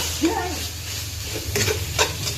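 Pork and chili paste stir-fry in a pan over low heat with a soft, steady sizzle. A spatula scrapes and stirs now and then, and someone talks quietly over the cooking.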